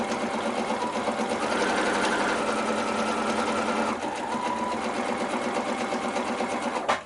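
A sewing machine stitches quilt patchwork blocks, running in a continuous close whirring drone with a brief dip in speed partway through.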